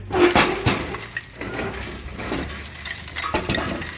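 Loose metal and plastic pieces rattle and clatter as a broken car part is shaken by hand, irregular jangling bursts close to the listener.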